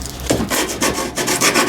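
Rough scratchy rubbing of sandpaper against a metal fuel line part from a Ford 800 tractor, in short repeated strokes, close and alone.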